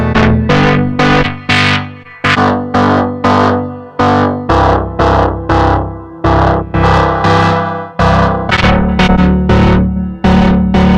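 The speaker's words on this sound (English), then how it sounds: "using the different models of the tape machines that this pedal emulates" Synthesizer notes played through a tape-style effect, a steady sequence of loud, distorted, slightly wobbly tones with repeated sharp attacks and no talking.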